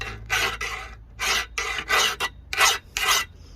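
Repeated rasping strokes of a metal file across an edging shear blade, about eight even, rhythmic scrapes, close and clear with short pauses between.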